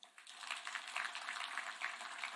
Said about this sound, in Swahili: Hawa wabunge wetu jameni, wapigie makofi.